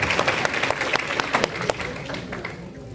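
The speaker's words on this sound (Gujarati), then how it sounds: "જોરદાર તાળીઓથી વધારી લઈશું." Audience applause at a Republic Day program after a patriotic drama, dense sustained clapping from a crowd that fades slightly toward the end.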